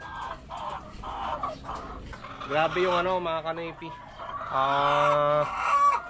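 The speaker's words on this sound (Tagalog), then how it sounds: "Tapos ito sila, yung mga ibang manok ko." Several chickens cluck and crow nearby, loud and overlapping, while someone speaks over the farmyard noise.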